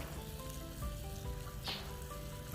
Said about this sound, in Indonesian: Margarin kita masak sampai mendidih, sampai betul-betul menjadi minyak.